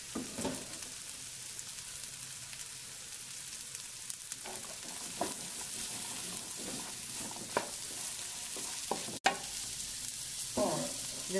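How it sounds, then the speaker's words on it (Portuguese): Onion frying in a pan with cooked dried meat for baião de dois, a steady bright sizzle under intermittent stirring and scraping strokes, with a sharp clunk near the end. "já venho colocando a cebola"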